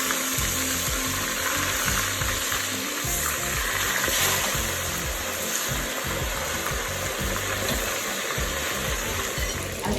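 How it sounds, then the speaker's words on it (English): Boiled chicken pieces fry in hot oil to brown, making a continuous bright sizzle. Low rhythmic thumps run underneath throughout. "Right, I'm going to fry the chicken."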